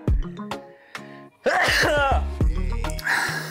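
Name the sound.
sneeze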